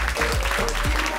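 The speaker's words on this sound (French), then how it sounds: "on peut l'applaudir très très fort." Theatre audience applauding hard for a warm-up host at a live show, dense clapping filling the whole short stretch with a few faint voices mixed in.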